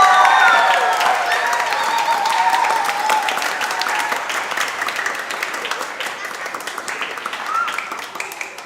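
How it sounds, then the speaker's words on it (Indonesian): Warm crowd applause at a Catholic Mass for the feast of Saint Francis Xavier, loud at the start and tapering gradually, with a few cheers and voices beneath the clapping. "Kita tepuk tangan untuk kita semua."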